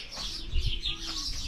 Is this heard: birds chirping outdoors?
yes